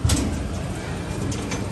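Pigeons kept as racing flyers in a loft give soft, low cooing close by, briefly, over a steady background hum.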